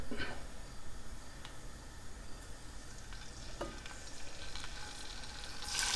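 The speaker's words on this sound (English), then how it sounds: "They're a little wet to be going in hot oil, but the oil is not scorching hot, so I don't think they'll spit too much." Wet shrimp frying in moderately hot oil, giving a steady, faint, close sizzle with a few light pops and utensil clicks, heard without any talking.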